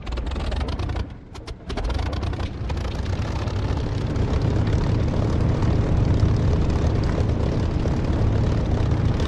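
A propeller aircraft engine in the DCS flight simulator catches after a brief sputter, then settles into a loud, steady warming-up drone that builds slightly and holds.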